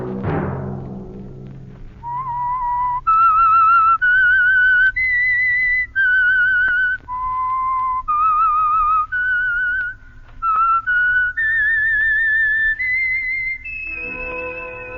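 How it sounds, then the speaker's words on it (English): The signal tune of the radio mystery show The Whistler is whistled alone: a steady melodic run of clear, sustained notes stepping up and down, loud and close, with no talk over it. "Let that whistle be your signal from the Whistler, each Sunday night at this same time."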